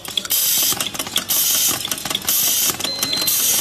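An automatic screw feeding and fastening machine assembles screws into electrical switches, giving off a steady loud mechanical whir with repeated ratcheting clicks and clacks throughout, with no voices.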